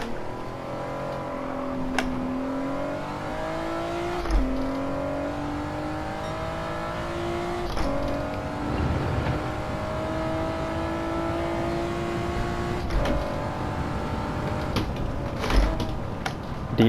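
A car in Gran Turismo 7 drifts through a slow corner under a trail-braking four-wheel drift, its engine droning steadily with revs rising and dipping through gear changes and brief surges, close and continuous with no talking.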